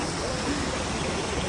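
A river stream at Sundarijal in Nepal rushes steadily and close, a continuous broad hiss of flowing water with no voices.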